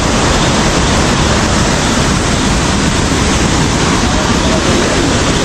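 Loud, continuous roar of rushing floodwater in Tayabas, Philippines, dense and unbroken throughout, with no voices standing out.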